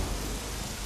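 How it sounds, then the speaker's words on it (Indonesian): Steady rain falls as a dense, even hiss with a low rumble underneath, loud and close throughout with no talking. "Lihat hujan ini."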